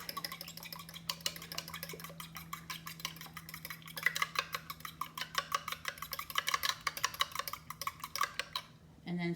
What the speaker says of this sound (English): I'm going to mix up these eggs